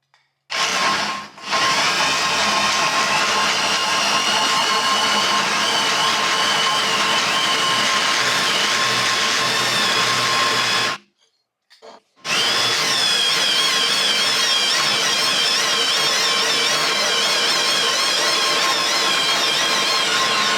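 A hole saw on a drill bores through a steel roll cage tube with a loud, steady grinding whine, briefly cut off near the start and again around the middle before resuming, no talking.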